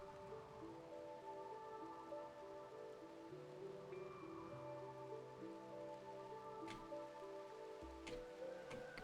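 Rain falling in the video game RimWorld, a soft continuous patter heard faintly under layered sustained musical tones.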